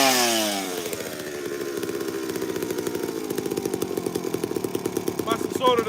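A Stihl 08S chainsaw engine running unevenly after being flooded, loud and close, starting with a revving burst and settling into a rough, pulsing drone with a throttle blip near the end.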